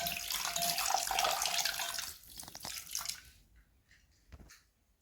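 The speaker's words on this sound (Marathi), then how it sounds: "प्रथम पाण्यामध्ये धुवून घेऊ आपण याला स्वच्छ." Running tap water splashes over a ravas (Indian salmon) fish being rinsed clean in a sink, a loud steady flow for about two seconds that then breaks into intermittent splashes, drips and handling sounds before trailing off.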